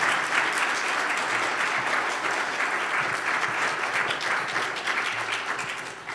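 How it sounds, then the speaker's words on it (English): A crowd at a community panel event applauds the panelists, a loud, sustained round of many hands clapping that tapers slightly at the end. "Can we give them a round of applause for these panelists?"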